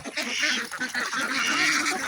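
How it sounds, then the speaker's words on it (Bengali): A flock of ducks feeds noisily, with overlapping harsh quacks and hoarse honking calls in a dense, steady chorus nearby and no talking. "কোনো কোনো হাঁস প্যাক প্যাক প্যাক প্যাক করে ডাকছে"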